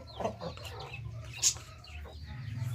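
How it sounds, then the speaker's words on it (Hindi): A hen clucks close by in short, agitated bursts, with one sharper squawk in the middle over a low background hum. "ये मुर्गी आ गई है अंदर और शोर मचा रही है।"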